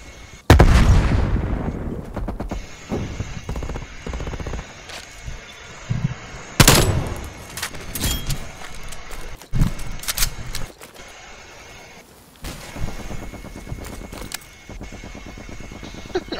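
Light machine gun fire in Call of Duty: Black Ops Cold War: loud, close bursts of rapid automatic shots, with a heavy burst at the start and further sharp volleys scattered across the match noise.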